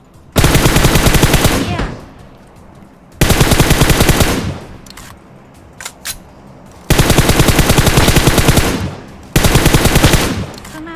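Loud sustained bursts of automatic gunfire from a PUBG Mobile match, four long rapid volleys separated by short pauses, with a few isolated shots in between and no talk over the firing.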